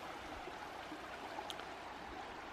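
A small mossy creek flowing beneath a country bridge, a soft, steady wash of running water trickling continuously at low level with no voices.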